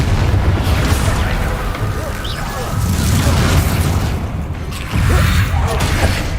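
Bombarda and Confringo blasting spells from the Hogwarts Legacy video game, a steady run of loud booming explosions and rumbling bursts, close and dense throughout, with a heavier blast near the end.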